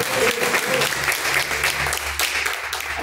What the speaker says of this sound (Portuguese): As palmas de louvo e agradece a Deus.